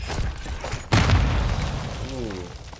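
A flashbang detonates in Modern Warfare with one sharp, loud bang about a second in, then a ringing, fading tail. Faint game noise comes before it, and a short voiced sound follows near the end.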